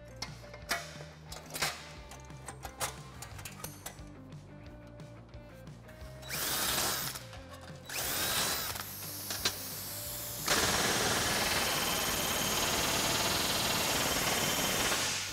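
Aluminum parts of a lightened hot rod bomber seat kit being joined with rivets: a run of sharp clicks and pops in irregular rhythm, then louder, sustained tool noise toward the end.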